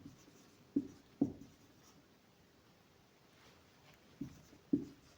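Pen or pencil writing out a math problem on paper, with a few short, close scratching strokes in two small clusters separated by quiet; faint, with no talk.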